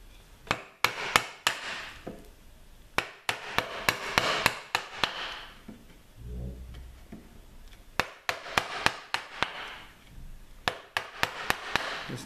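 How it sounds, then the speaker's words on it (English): A wooden mallet strikes a wood chisel in quick rhythmic clusters while a bridle joint is cut out, sharp close knocks in bursts separated by short pauses, with a brief low rumble midway. "So now I'm going to put it in this side, again using the chisel that way round."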